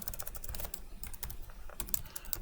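Rapid, irregular keystrokes on a computer keyboard while C++ code is entered, close and fairly quiet, clicking in quick bursts with short pauses and no talking.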